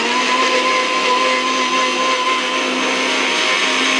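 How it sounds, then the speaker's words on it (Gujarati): A kitchen mixer whirs at a constant high speed, blending cold coffee with milk, a loud, unbroken motor whine with no pauses or voices. "ફરી પાછું 1-2 મિનિટ સુધી આને મિક્સરમાં ચાલુ કરી દઈએ."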